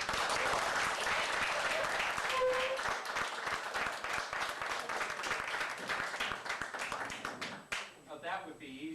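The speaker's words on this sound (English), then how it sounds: "So how about a round of applause?" Guests at a company dinner give a round of applause: loud, dense clapping from a roomful of people that thins toward the end and gives way to a brief voice near the close.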